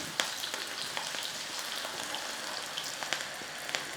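Mushroom pakodi frying in hot oil, a steady dense sizzle with scattered small pops and crackles throughout, fairly quiet and with no voices.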